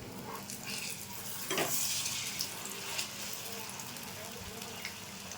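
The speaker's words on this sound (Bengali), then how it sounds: "তেলটা গরম হয়ে গেছে, মাছটা ছেড়ে দিচ্ছি।" Pieces of vegetarian mock fish fry in hot refined oil in a wok. The sizzle is soft and steady, rising in a brief louder burst as the pieces go into the oil.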